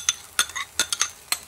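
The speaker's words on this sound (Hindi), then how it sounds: "इस तरह चलाते रहिएगा" A spoon scrapes and stirs a frying masala of ghee, butter and yogurt in a pan over a medium flame, making sharp, close strokes about every few tenths of a second over a soft sizzle.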